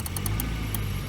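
A Volvo 240 engine running steadily as it is put in gear, a low continuous idle hum with faint rhythmic ticking on top, close and unbroken.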